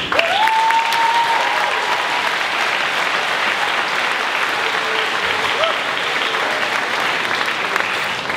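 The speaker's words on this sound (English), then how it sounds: "please give yourselves a great round of applause." A graduation audience of parents, family and friends gives a loud, sustained round of applause at an alternative education ceremony, dense continuous clapping filling the hall, with a brief whoop near the start.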